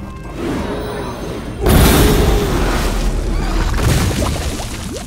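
Bomb explosion in the Hearthstone card game, a loud booming blast that hits suddenly after a quieter rumble and then rolls on in a long, heavy decay.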